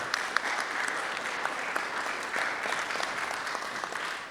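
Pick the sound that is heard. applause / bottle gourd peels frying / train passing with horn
applause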